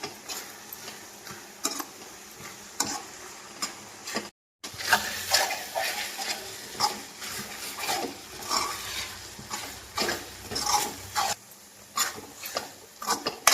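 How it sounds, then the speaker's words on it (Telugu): Semiya kesari being stirred in a pan, soft repeated scraping and clinking strokes in an irregular rhythm, close and fairly quiet, with a brief silent gap partway through. "ఈ విధంగా మనం తిప్పుతానే ఉండాలండి"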